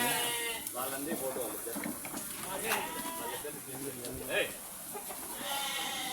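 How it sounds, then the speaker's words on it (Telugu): Nellore sheep bleat nearby on a livestock sale ground, several calls scattered through the scene beneath steady conversation between men. "బాగున్నాయండి పొట్టేలు."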